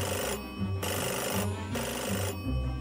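A telephone bell rings loudly in repeated bursts with short gaps between them, heard alone in an indoor setting with no voices.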